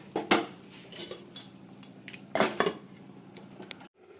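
A spoon stirs potato and pea curry in a pan, scraping and knocking against the metal in a few distinct strokes between quieter shuffling, then cutting off abruptly.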